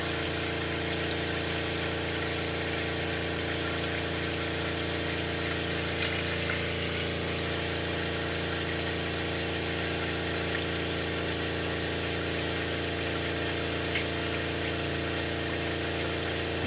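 A Franklin CX22 caravan water pump runs in a steady, continuous hum with a droning motor tone and rushing water, loud and close, unchanging throughout with no speech.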